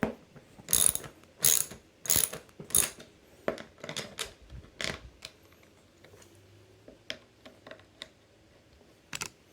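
Bolts on a Steelcase Leap V2 office chair headrest are tightened with a ratcheting tool, making bursts of sharp clicks in quick runs, then sparser single ticks, close and alone.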